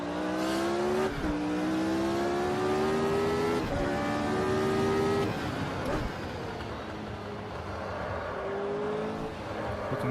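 Formula Retro race car in Automobilista at Montreal '88 with a loud, close onboard engine note. It climbs in pitch through several quick gear changes, each shift a clear drop before revving up again, and then eases off toward the end.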